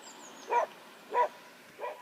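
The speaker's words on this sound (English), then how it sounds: "Being chased by a dog." A dog barks three times along a quiet road, sharp evenly spaced barks at moderate distance over a faint background.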